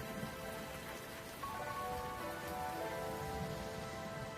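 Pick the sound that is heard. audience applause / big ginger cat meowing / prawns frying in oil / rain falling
rain falling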